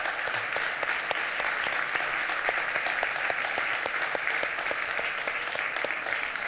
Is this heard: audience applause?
yes